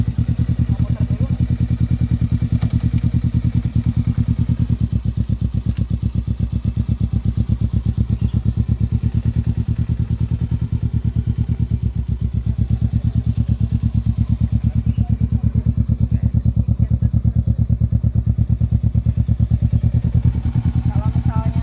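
A motorcycle engine idles steadily after being started, a continuous loud low chugging with rapid even firing pulses, running alone without talk for over twenty seconds.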